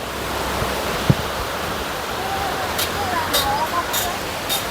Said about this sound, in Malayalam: ഇവിടെയാണ് ഒരു വെള്ളച്ചാട്ടം വരുന്നത്.